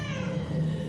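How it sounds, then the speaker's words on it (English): A kitten meows once in a short, sustained, plaintive sound effect played as a time-up signal at a live comedy show, heard clearly and alone. "you know your 60 seconds is up when you hear the sound of a kitten"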